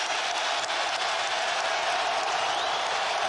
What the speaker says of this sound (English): This feels like an appreciative roar from the crowd.